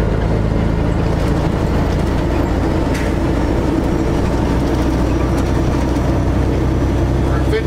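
A truck engine with an 18-speed transmission drones steadily and loudly at highway speed as gears are shifted, a constant heavy rumble throughout with no clear speech.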